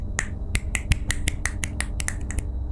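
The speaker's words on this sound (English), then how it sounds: "and I can snap my fingers." Fingers snapping in a quick series of about a dozen sharp, crisp clicks at a fairly even rhythm, close and clear with no speech over them.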